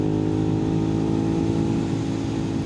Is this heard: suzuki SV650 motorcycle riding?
yes